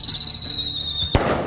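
An explosion recorded in the field for Diablo IV sound effects gives one sharp, loud bang with a rumbling tail, preceded by a steady high whistling tone.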